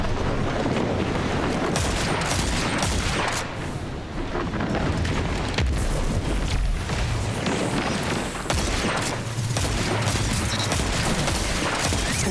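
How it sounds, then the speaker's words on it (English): Dense, continuous gunfire and explosive booms from a chaotic Crucible Mayhem match in the video game Destiny 2, including scout rifle shots, loud and sustained throughout the clip with no talking. "my scout rifle's helping me over here right now"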